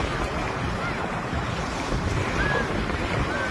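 Wind and waves at Victoria Harbour in Hong Kong make a steady, dense roar of wind buffeting the microphone over the wash of water, loud and unbroken from start to finish.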